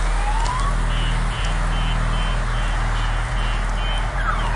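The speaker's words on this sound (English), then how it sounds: "Look at how far away that he set off that alarm." A vehicle alarm going off on a Best Buy truck, a loud, continuous cycle of repeating electronic tones over a low engine rumble, persisting without a break.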